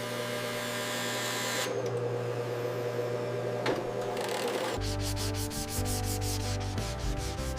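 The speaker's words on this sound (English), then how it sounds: "Sanding enhances texture and natural crystal patterns." Himalayan pink salt lamp being sanded by hand, a steady dry rubbing and scraping that runs continuously, shifting into a louder, rhythmic back-and-forth grind in the second half over a low machine hum.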